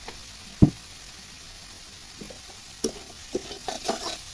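Sauce being stirred into noodles frying in a pan: soft steady sizzle under sharp utensil scrapes and knocks, one loud clack early and a cluster of taps toward the end, no talking.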